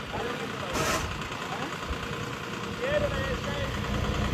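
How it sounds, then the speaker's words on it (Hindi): A tractor engine idles in a steady, continuous rumble with a low throb, close and fairly loud, with faint voices underneath. "ट्रैक्टर को लेके जाने लग रहे भाई अब दूसरी लोकेशन पर"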